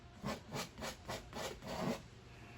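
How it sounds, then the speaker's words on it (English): Oil paint scraped off a surface with a scraper, about six rhythmic rasping strokes, close but faint, with no talk. "I'm just going to scrape that off."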